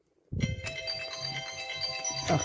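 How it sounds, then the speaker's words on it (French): A mobile phone ringtone starts abruptly and plays a steady, melodic electronic tune of sustained tones at moderate loudness, with faint handling noise during a paper-crafting session. "mon téléphone qui sonne"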